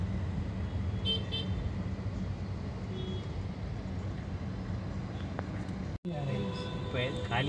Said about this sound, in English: Still on my way in the traffic.